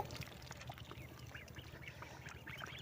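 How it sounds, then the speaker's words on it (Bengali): Faint, busy chatter of ducklings peeping and quacking together on farmland, soft and slightly distant, continuous throughout. "বাকিগুলো সব কয়টা হাঁসের বাচ্চা এইখানে আইসা পড়ছে"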